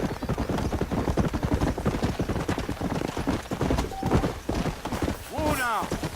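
In the Red Dead Redemption video game, a horse's hooves clip-clop in a fast, steady rhythm, with a whinny near the end and people talking over the hoofbeats.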